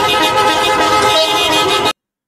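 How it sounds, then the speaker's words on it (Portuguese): Car horns blare together in one loud, continuous wall of honking from many vehicles as a street crowd protests against Lula in Minas Gerais, then cut off abruptly. "a população pedia para que buzinasse quem concordava com o Fora Lula"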